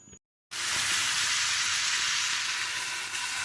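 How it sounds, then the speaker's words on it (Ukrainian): Onion and eggplant hit a hot pan and sizzle loudly and steadily after a brief quiet gap at the start, a dense, even frying hiss with no talking. "бажано чуть-чуть трішечки припасирувати овочі, щоб вони злегка зм'якли"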